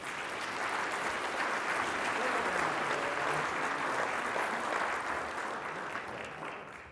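An audience at a Pocatello-Chubbuck chamber leadership event applauds to welcome Mayor Dahlquist, steady, dense clapping from a crowd that holds for several seconds and then tapers off at the end.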